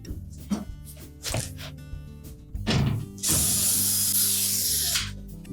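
Two mounting screws being removed from the back of a GE washer's water valve: a string of short ratcheting clicks and tool knocks, then a louder stretch of grinding, hissing tool noise lasting about two seconds, close by with no talk.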